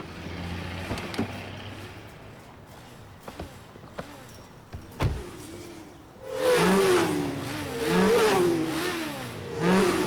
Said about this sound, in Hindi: अरे देखो, वहाँ पर एक स्टंट बाइक शो हो रहा है।